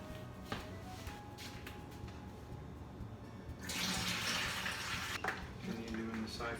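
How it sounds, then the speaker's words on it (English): Home brew runs through a siphon into bottles, a soft steady trickle that swells into a louder rushing pour midway, faint and close, with light clicks and handling noises. "Continue doing the siphon some more."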